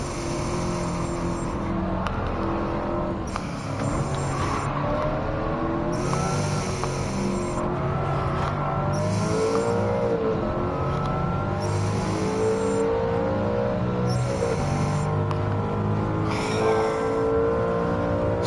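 A high-revving car engine in the racing video game Gran Turismo 7 roars continuously, its pitch climbing and dropping through repeated gear changes, loud and close, with no voices.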